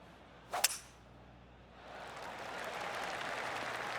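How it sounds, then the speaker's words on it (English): Soft golf claps from spectators around the course in PGA TOUR 2K25 rise to a steady, distant patter after a sharp crack of a club strike. "I can hear the golf claps around the course."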